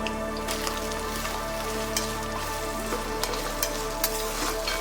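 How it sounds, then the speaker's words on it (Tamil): Onions for a country chicken curry fry over a high flame in a pan, giving a steady, even sizzle dotted with small crackles and pops beneath a low background hum. "இந்த ஆனியன் நல்ல பொன்னிறமாக வரணும், அந்த அளவுக்கு நம்ம வறுத்துக்கலாம்"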